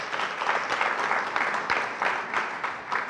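Audience applause during a university's State of the University address, a steady wash of many hands clapping throughout at moderate level.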